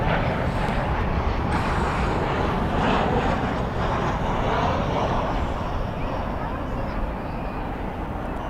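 An airliner jet roars steadily at Dallas/Fort Worth airport at night, a broad, loud, rumbling engine wash that holds for several seconds, with someone talking beneath it.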